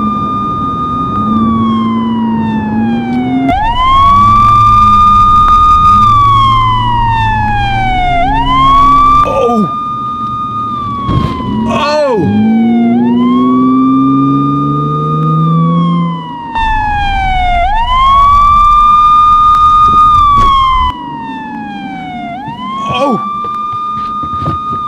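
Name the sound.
police car sirens during chase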